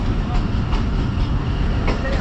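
Sialkot Express train arriving at Narowal railway station, a dense rumbling rattle of rolling wagons close by, with faint squeals and clanks scattered through it.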